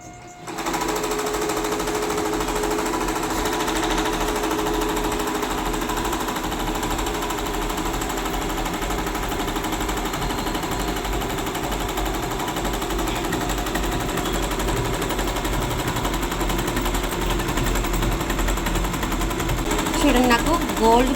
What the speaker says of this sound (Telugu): మిషన్ అయితే ఆన్ చేసుకోవాలి.